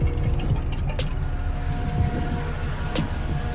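The cooling fans of a 1983 Jeep CJ-7 with a swapped 350 engine run with a steady whooshing drone over the engine's low idle rumble, close by, with a few faint clicks.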